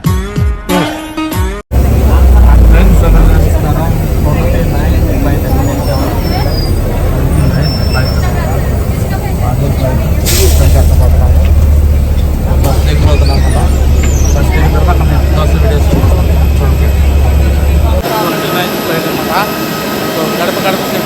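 An airliner on the runway at Vijayawada airport produces a steady loud low engine drone heard from inside the cabin, with someone talking over it and a brief mechanical clunk near the start.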